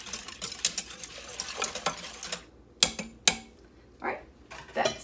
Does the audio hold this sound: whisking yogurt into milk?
yes